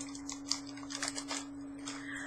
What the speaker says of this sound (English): use my scissors to open